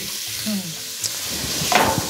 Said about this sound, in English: if you can hear that sizzle of that chicken